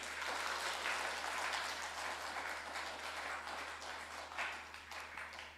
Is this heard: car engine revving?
no